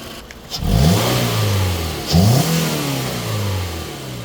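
A 2018 Toyota RAV4 engine runs close by, revving up twice with rising pitch, then settling back into a steady hum between revs.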